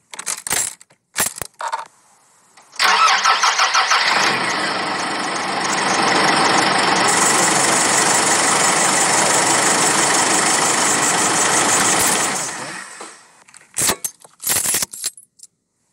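A car engine cranks and catches after a few clicks and key jangles, then settles into a steady, loud idle that runs for about nine seconds before cutting off, followed by scattered handling noises.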